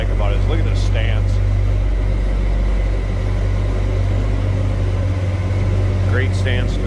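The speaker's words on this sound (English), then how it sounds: "Nice, deep, throaty exhaust, good sounding truck." 1956 Chevrolet 3100 Stepside street rod truck idling with a deep, throaty exhaust, a steady loud low rumble close by while someone talks over it.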